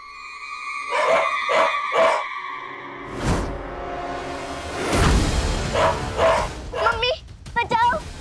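A dog barks three times in a steady rhythm, loud and close, then gives further yelps and whimpering barks while a person talks in distress over the barking.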